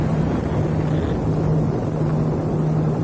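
A speedboat running on open water between Teluk Batang and Pontianak, with a steady loud engine drone and rushing wind and water noise throughout, no pauses.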